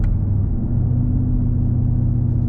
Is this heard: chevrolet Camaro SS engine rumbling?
yes